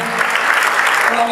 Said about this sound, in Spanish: El aplauso con la música de Capi para.